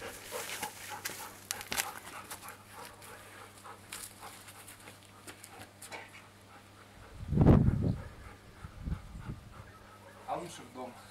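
A golden retriever pants and whimpers softly during an outdoor training session, with a louder burst of dog noise about two-thirds of the way through and a few fainter whines after it.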